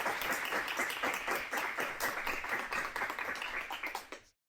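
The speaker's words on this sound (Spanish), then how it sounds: "con un aplauso" An academic panel audience at a history conference claps moderately for several seconds, with individual claps audible in a fairly quiet, sparse applause that stops abruptly.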